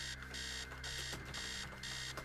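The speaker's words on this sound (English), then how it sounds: "Upstairs, the sound of an alarm clock blaring." An alarm clock blares upstairs in the video game Stories Untold, a continuous electronic ringing pulsing in short regular bursts, steady and moderately loud.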